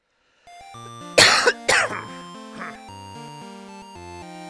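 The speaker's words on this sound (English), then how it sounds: "I do apologize for any coughing." Two sharp, close coughs from a single person, then a softer throat-clearing cough, over chiptune music from Dragon Warrior Monsters 2: Tara's Adventure.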